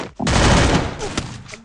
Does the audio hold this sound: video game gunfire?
yes